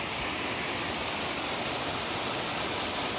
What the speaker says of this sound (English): so that's the waterfall and the Cascades walk